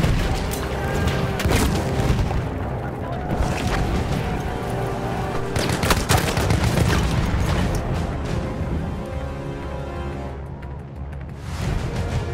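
A grenade blast in the World War I shooter Battlefield 1, a deep booming burst within dense, continuous battle noise of rumbling, clattering and distant fire, with no clear standalone peak.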